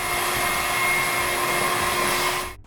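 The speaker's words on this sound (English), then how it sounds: "or a vacuum cleaner." A vacuum cleaner runs alone with a loud, steady whine and airy roar that holds constant, then cuts off abruptly near the end.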